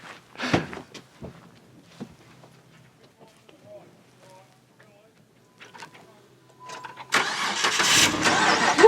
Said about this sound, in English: Well, I've got to start my car first.